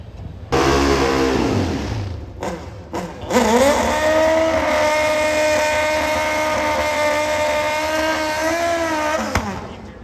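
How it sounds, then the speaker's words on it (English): Drag race cars at Thunder Valley Nationals roaring off the line and accelerating down the strip, a loud sustained engine howl that rises in pitch after a brief gap, with no talk. "That was a good drag race right there"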